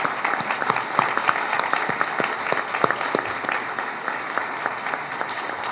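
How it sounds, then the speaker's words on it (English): A room full of people at a Wenham town meeting applauds the local Girl Scouts with steady, dense clapping that holds for several seconds, with scattered sharper claps standing out from the crowd. "They deserve a round of applause."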